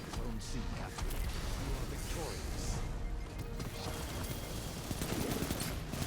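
An auto rifle fires in rapid, continuous bursts during a Destiny 2 Iron Banner match, with constant crackling and impacts mixed into busy game noise and someone talking over it.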